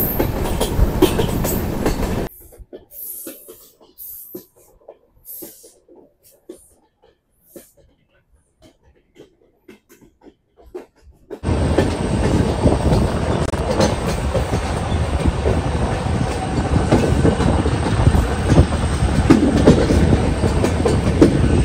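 A train runs loudly past a curve at a tunnel mouth: broadband rumble for the first two seconds, near-quiet with faint sporadic clicks in the middle, then a sustained, close, roaring rush of passing cars through to the end.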